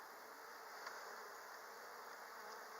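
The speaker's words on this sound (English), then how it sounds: "I'm not sure why there's so many bees down on that corner." Honey bees buzz steadily and loudly on a brood frame from a struggling hive, a dense, unbroken drone close up with no pauses.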